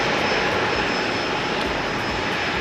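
Airliner in the blue whale shark Jinbei livery at Haneda airport, a steady loud roar of jet engines holding close and even for a couple of seconds with no talk.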